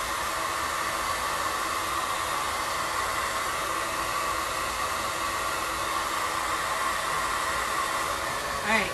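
A hair dryer blowing on a craft piece, a steady loud whooshing roar held for the whole stretch with a small bump near the end, no talking.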